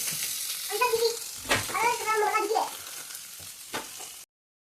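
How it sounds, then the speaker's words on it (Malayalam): Cashews and raisins sizzle in hot oil in a home kitchen as garnish for a mushroom biryani, a soft steady frying hiss with occasional stirring scrapes and clatters, fairly quiet overall. "ബിരിയാണി ഡെക്കറേറ്റ് ചെയ്യാനുള്ള അണ്ടിപ്പരിപ്പും കിസ്മിസും വറുത്തെടുക്കാം"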